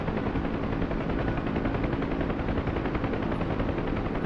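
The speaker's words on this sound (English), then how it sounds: "is that a Kiowa up there?" A Kiowa helicopter flying overhead in a combat video game, a steady loud rotor and engine drone that fills the whole stretch without a break, with possible distant gunfire mixed in.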